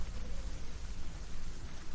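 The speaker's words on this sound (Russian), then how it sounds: "Почему дождик начался?" Rain falls steadily in the game Hellblade: Senua's Sacrifice, a soft dense patter with a low rumbling undertone, quiet and continuous with no voices.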